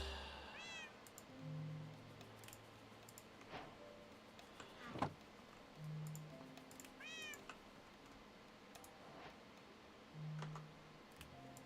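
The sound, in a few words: cat meowing in Minecraft (ATM9 modpack), video game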